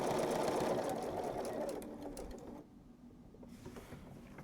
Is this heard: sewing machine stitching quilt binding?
yes